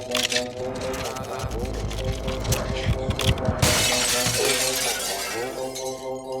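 Glass mirror shattering into shards as a movie sound effect, a loud sustained crashing burst layered over dramatic music and low rumble, with voices present.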